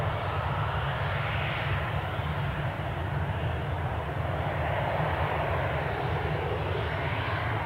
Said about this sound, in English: So our Lanzarote flight is now taxiing out.